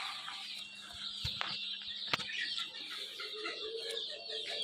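Egyptian Fayoumi chicks, red and white, peep and cheep in a continuous soft chorus alongside local chicks, with a couple of sharp knocks, faint and steady, with no talk.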